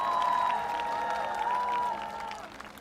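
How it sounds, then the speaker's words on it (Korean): A political rally crowd in Seongdong, Seoul, applauds and cheers in a loud, continuous wash. A sustained tone hangs over the clapping, which eases slightly toward the close. "자, 다시 한번 큰 박수 부탁드립니다."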